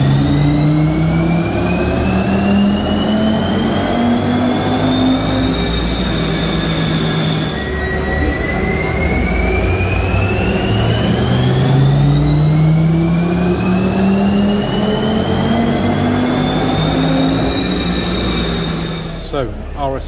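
An Audi RS3 engine revving hard on a dyno, loud and close, pitch climbing smoothly through two long sweeping pulls with a brief shift dip between them, ending with a sharp cutoff.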